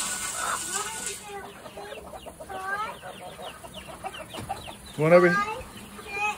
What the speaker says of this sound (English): Uh-oh, the rooster's going crazy, huh?